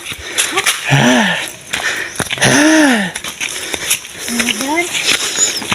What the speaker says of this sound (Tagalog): Hinihingal ako sa daanan ni Nanay.